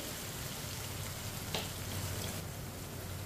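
Tomatoes frying in a pan for lobia curry give off a steady, even sizzle that stays close and constant the whole time, with no voices.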